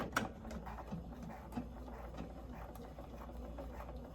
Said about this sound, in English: I have the machine on a straight stitch. I'm going to use the slider and just start sewing.